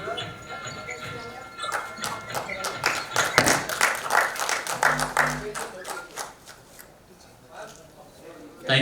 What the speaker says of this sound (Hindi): हम सबको तालियां बजानी चाहिए